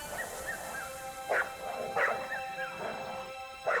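A wolf pack howls and yips together: high, wavering cries and short excited yelps overlap and rise in repeated bursts against a quiet background.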